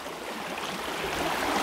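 Water in an upstream river flows with a continuous, even rushing hiss, moderately loud and close, with no voices over it.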